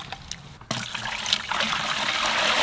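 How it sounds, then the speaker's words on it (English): Water pouring into a bucket to top it up to five gallons, starting after a brief pause and building into a steady, close splashing fill. "So now I just want to fill up the rest of the bucket with water,"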